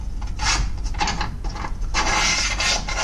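Metal scraping and rubbing as an eye bolt is loosened and slid along a Rhino-Rack Backbone roof rack track on a Toyota Prado 150, in close, uneven bursts of grinding friction.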